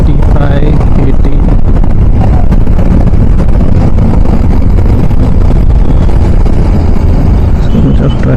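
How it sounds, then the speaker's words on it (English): Loud road traffic heard while riding a motorcycle, a dense continuous roar of engines and rushing wind buffeting the microphone, with a voice talking underneath throughout. "so much of traffic here."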